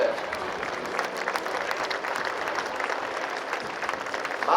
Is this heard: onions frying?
no